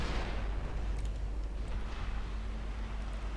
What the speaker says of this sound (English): we're scoring torpedo hits on something